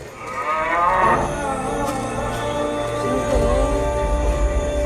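A cow lets out a loud, drawn-out moo close by, its tone sliding and wavering, followed by a lower, continuing bellow over faint outdoor background noise.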